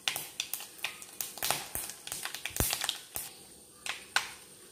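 Mustard seeds popping in hot coconut oil in a pan, a quick irregular series of sharp little pops and crackles, close and fairly quiet, with gaps between clusters.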